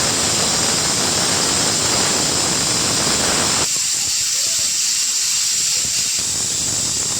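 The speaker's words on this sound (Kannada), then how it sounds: "ಎರಡಿಲ್ಲ 3 ವಿಷಲ್ ಆಯಿತು." A pressure cooker of sprouted horse gram vents a loud, continuous blast of hissing steam close by, which cuts off abruptly partway through and leaves a quieter hiss.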